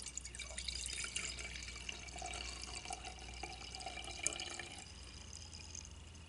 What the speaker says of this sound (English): I'm just gonna carefully pour right on into your jar